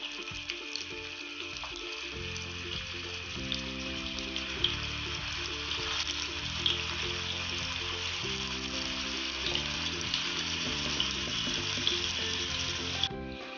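Steady, bright sizzling of chicken pieces frying in coconut oil throughout, with a low humming tone underneath and a few faint clicks.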